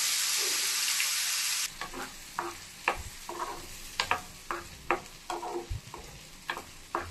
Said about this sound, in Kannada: ಸುಮ್ಮನೆ ಲೈಟಾಗಿ ಫ್ರೈ ಮಾಡ್ಕೊಳ್ಳಿ.